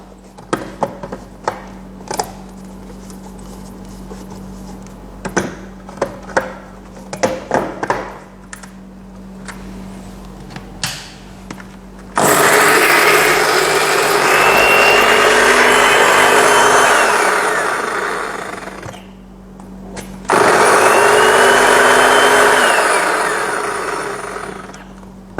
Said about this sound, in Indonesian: Dan ini kita blender sedikit untuk bawang merah, bawang putihnya, sama cabai merah besarnya ya, cabai keritingnya.